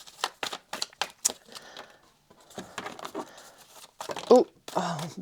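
Tarot cards shuffled by hand in a series of quick papery riffles and crisp snaps, loud and close, with short pauses between bursts and a light rustle near the end.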